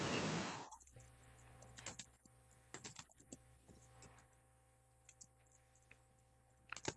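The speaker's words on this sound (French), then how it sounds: "Là, je vous entends taper par contre." Quiet, scattered keystrokes on a computer keyboard during an online security class, coming in short irregular bursts of clicks over a low background hum, with a brief louder noise at the very start.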